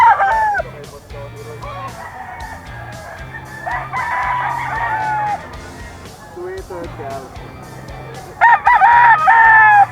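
Roosters and hens at a chicken sale in Grotto, Bulacan, loud crowing calls rising again and again over steady clucking, with people talking in the background.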